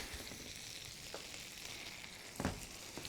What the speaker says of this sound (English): I think I've seared this just perfect at this point